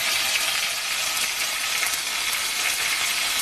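Ginger paste frying in hot oil with five-spice seeds on lowered heat, giving a steady, dense sizzle close to the pan with no talking.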